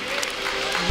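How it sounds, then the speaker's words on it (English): A church congregation claps and cheers in a steady wash of applause, loud and continuous, with crowd voices mixed in. "let's give him a clap"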